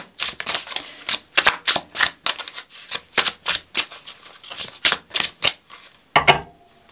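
Repeated crisp riffling bursts of oracle cards being shuffled, quick rhythmic flurries close up, ending with a soft thud.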